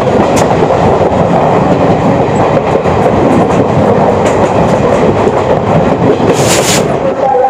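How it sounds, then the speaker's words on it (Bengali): The 13173 Kanchanjungha Express, Sealdah–Agartala, pulls away from a station: a steady, loud rumble of rolling carriages with rhythmic wheel clatter throughout and a few brief high squeals near the end. "ট্রেন ছেড়ে দিয়েছে"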